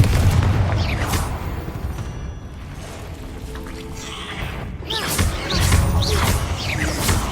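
Confringo spell blasts in Hogwarts Legacy, loud booming explosions with crackling impacts, a dense rumble that eases mid-way and then swells again with sharp bursts.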